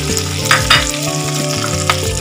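Curry leaves and asafoetida crackling in hot oil for pongal, a loud close sizzle with sharp spitting pops and a few spatula scrapes over a couple of seconds.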